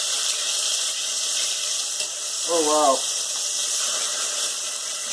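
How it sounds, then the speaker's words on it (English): Pieces of beef for Vietnamese bo kho stew sizzle in plenty of hot oil during stir frying, a steady bright hiss throughout, briefly interrupted by a short exclaiming voice. "I'm basically stir frying these pieces of meat."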